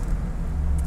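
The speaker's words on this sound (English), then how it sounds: "If you want to hear the stock sound again, this is how it sounds." Stock exhaust of a Ford Mustang GT 5.0 V8 Fastback, a low, fairly quiet engine rumble holding steady for under a second with no talking.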